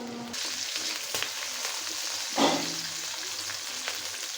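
Green chilies fry in a pan for a chepa shutki bhorta, a steady close sizzle and crackle with a brief louder burst of spitting oil partway through, no voices.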